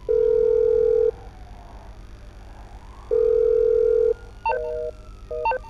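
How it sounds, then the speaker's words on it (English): A phone call in Grand Theft Auto V rings in long, even electronic tones separated by pauses, followed by a few short dialing beeps. "Let's call Trubies, my friend."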